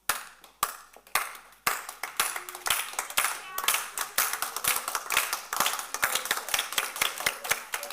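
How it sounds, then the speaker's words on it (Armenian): A church congregation claps hands during an Armenian sermon, the claps starting as scattered sharp slaps and quickly building into steady, dense rhythmic clapping that carries on throughout. "Ծափահարեք։"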